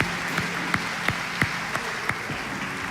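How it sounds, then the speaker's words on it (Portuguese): Steady rhythmic clapping from a church congregation during an evangelical worship service, single claps evenly spaced about three per second, moderately quiet and without talk. "Aplaude ao Senhor Jesus"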